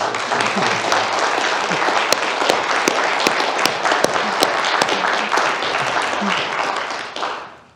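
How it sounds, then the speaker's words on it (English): An audience at a civic forum on dark tourism and city government gives a sustained round of applause, dense and even, fading out at the end. "just give a big round of applause for our guests"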